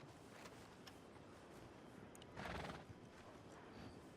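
A horse in the Red Dead roleplay game WildRP gives a single loud whinny midway, with faint clip-clop hoofbeats and a steady hiss of background ambience around it.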